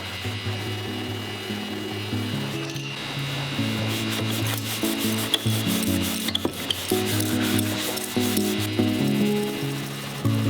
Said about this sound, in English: a microfiber applicator for the exhaust tips is all they need